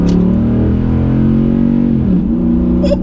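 A 2012 Dodge Ram 1500 truck accelerating, heard from inside as a loud, deep engine drone that swells steadily as it pulls, dipping briefly near the end before it picks up again.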